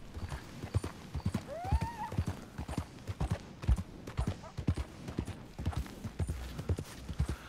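Horse hooves clip-clopping in the video game Red Dead Redemption 2, a brisk irregular run of close hoof strikes with a brief whinny early on, over a faint background.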